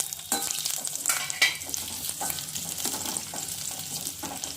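Onions sizzle steadily in about two spoonfuls of hot oil for a bhindi curry, with repeated scraping stirs and occasional louder clatters close by, and nobody speaks.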